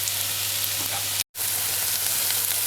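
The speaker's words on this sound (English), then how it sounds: "you can hear the sound changing to a frying almost" Steady, close sizzling of girolle mushrooms frying in a pan, with a brief moment of silence partway through.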